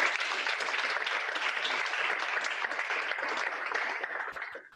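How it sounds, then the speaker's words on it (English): Applause from an audience at a 2021 school closing ceremony after Social Science Department awards, steady even clapping at moderate level that fades out at the end, no voices. "Round of applause for that."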